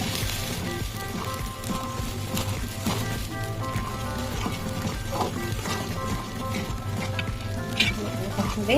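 Mustard and ginger-garlic paste frying in oil for mustard mango pickle, a steady close sizzle with stirring scrapes running throughout.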